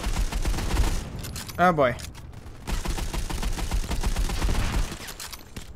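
Gunfire from the Modern Combat 5 shooter game crackles in rapid, dense bursts through most of the stretch, loud and close, while someone talks excitedly over the shots.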